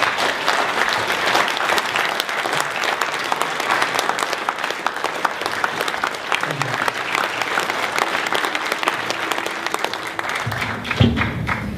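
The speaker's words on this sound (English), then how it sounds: "I want y'all to give a strong round of applause for our good brother, Dhoruba Ben Wahab." Strong, sustained audience applause for a speaker at an evening community gathering on police terrorism, dense steady clapping filling the room throughout with a brief louder burst near the end.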